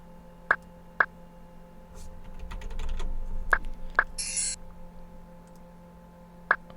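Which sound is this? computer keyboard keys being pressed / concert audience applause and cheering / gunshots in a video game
computer keyboard keys being pressed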